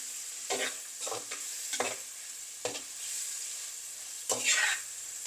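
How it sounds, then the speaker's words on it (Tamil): Sliced onion and green chillies sautéing in oil in a pan for coconut-milk chicken biryani, a continuous sizzle broken by several brisk spatula stirs and scrapes, close and fairly loud. "ரெண்டு பச்சை மிளகாய் ஒரு வெங்காயம் எல்லாம் சேர்க்குறோம் அதில் சேர்த்து நல்லா வதங்க விடுறோம்"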